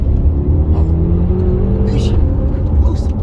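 A BMW F10 M5 accelerates and shifts gears, its engine drone rising in pitch close by. Voices can be heard over the engine.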